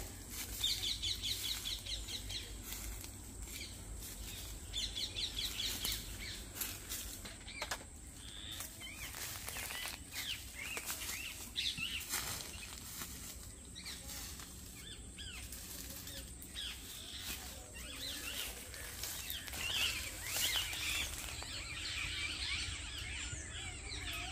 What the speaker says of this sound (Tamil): இந்த குருவி சத்தத்தை கேட்கும்போது அவ்வளோ அழகாக இருக்குது